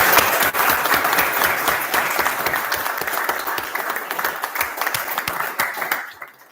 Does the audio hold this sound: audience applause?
yes